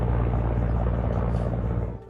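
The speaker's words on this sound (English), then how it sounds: "with Russian military helicopters flying overhead" Russian military helicopters fly overhead near Karabakh, a loud, close, continuous rotor rumble with deep pulsing thump that fades slightly at the end.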